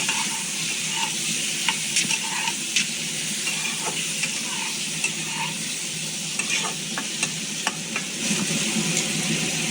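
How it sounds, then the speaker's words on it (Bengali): Tomato frying in a pan for sweet and sour mango chutney, a constant close sizzle broken by regular light taps and scrapes of stirring, no speech. "আবার এটা টমেটো, সুন্দর করে ভাজতে হবে তাকে।"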